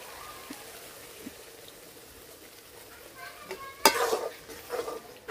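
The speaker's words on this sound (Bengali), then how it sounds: "এখন দিয়ে দিব নারিকেলের দুধ।" Coconut milk is poured into egg korma in a pan and stirred, the quiet sizzle giving way to a sudden loud splash and bubbling, then a few scraping stirs nearby.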